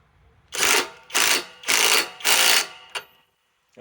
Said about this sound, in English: Let's just tighten up a little bit with the impact wrench.